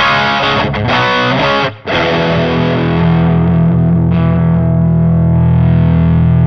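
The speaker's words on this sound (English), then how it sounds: "you can get very dark, distorted tones" An electric guitar through a Ninevolt Pedals I Was A Wolf In The Forest distortion pedal, reverb off, plays sustained, dark chords, briefly cutting out before ringing on with a thick, buzzing tone.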